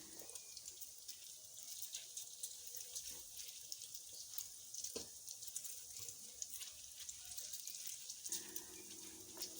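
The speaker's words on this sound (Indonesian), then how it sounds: "Kita goreng ya teman-teman." Donut dough frying in hot oil in a home kitchen, a steady hiss and bubbling sizzle that continues throughout, with faint clinks from utensils.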